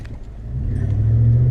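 A Chevrolet Silverado with a Gibson cat-back exhaust gives a deep, rumbling rev that swells louder over a second and a half and stays close and throaty.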